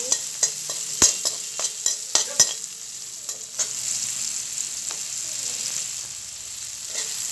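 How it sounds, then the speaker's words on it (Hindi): Onions fry in a pan with a constant soft sizzle, while a spoon scrapes and clicks against the metal in a string of sharp stirring knocks. "इसे मैं लाल करके भूज लूंगी"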